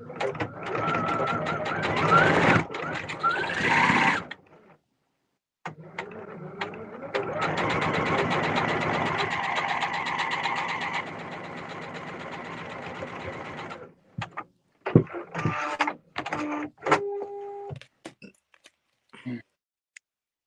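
A sewing machine runs in bursts as it bastes sleeves into a wrap dress, with a rapid mechanical stitching rattle, stops and restarts, a long steady run in the middle, then shorter stuttering spurts at the end.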